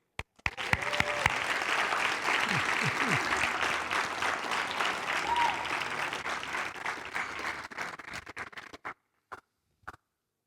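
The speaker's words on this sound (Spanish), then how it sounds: "Date tú mismo un aplauso." A church congregation claps at a religious service, a dense sustained burst of hands that runs for several seconds before thinning into scattered claps and trailing off, with brief voices calling out over it.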